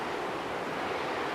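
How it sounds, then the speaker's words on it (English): Dark sea waves beating against rocky Baltic coast in wind, a steady, dense roar of surf and gusting air with no distinct individual breakers, filling the whole clip. "the sea turns dark, and the waves beat against the rocks"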